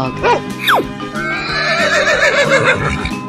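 A horse neighs with a wavering, drawn-out whinny after a quick sliding whistle, loud and close over steady background music.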